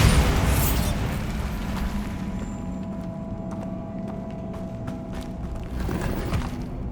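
A Bombarda blasting spell erupts in Hogwarts Legacy, a loud booming explosion at the start that trails off into rumbling debris and scattered crackles.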